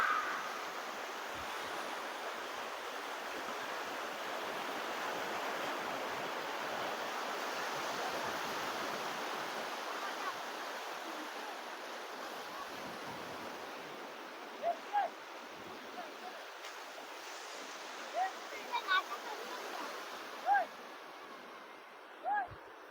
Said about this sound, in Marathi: लाटा आपल्या जवळ येत आहेत बघ